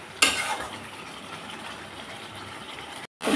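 Spice paste (masala) with turmeric frying in oil for a jackfruit curry: a steady, close sizzle that starts with a sudden burst and crackles evenly before cutting out abruptly near the end.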